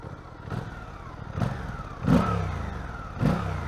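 A Suzuki GSX-8R sport motorcycle engine revs in several sharp bursts over a steady idle, each blip rising quickly then settling, close by with a fairly tame stock-exhaust tone.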